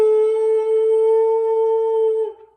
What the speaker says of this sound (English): We talked about creating a buzzing sound on our mouthpieces.